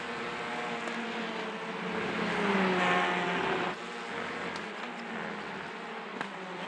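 Race cars in the iRacing sim game at Brands Hatch, a continuous buzzing engine drone with harmonics swelling as cars pass, heard alone at moderate volume.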